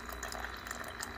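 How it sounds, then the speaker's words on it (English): Coffee drips and trickles into a mug from a Sboly single-serve thermal drip coffee maker, a soft continuous watery pattering over a low steady machine hum, with no talk. "It's going to start filling up my mug. I want to, hopefully you can see this as this is dripping."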